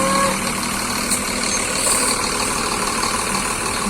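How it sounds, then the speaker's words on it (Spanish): A bus engine idles with a steady, mid-pitched mechanical drone as it pulls up, close and constant throughout, with no talking. "ahora sí llegó el carro para que nos lleven nuevamente"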